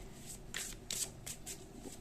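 Tarot cards shuffled by hand in short riffling bursts, crisp papery flutters repeating about every quarter second over a faint low hum.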